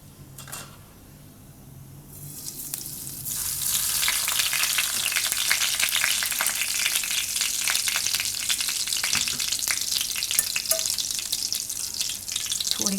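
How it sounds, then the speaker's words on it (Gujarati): Whole cumin seeds hit hot oil for tempering, starting quietly, then bursting into a loud, continuous crackling sizzle that holds steady. "તો તેલમાં આપણે નાખીશું જીરું આખું"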